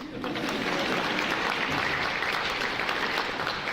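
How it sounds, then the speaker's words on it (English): Sustained applause from an audience at a nursing-program gathering during an esports event, a dense wash of clapping that swells in quickly and holds steady for a few seconds. "Y'all give a round of applause for these people,"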